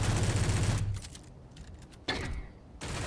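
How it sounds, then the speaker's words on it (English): Automatic pistol fired in the Space Engineers video game, a rapid burst of shots at the start that cuts off, followed by metallic clicks and mechanical handling sounds of a reload, loud and close. "And now the automatic pistol."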